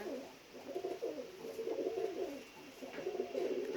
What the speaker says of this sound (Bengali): আর এখন বিকাল হয়ে গেছে, আমি কবুতরকে খাইতে দেবো।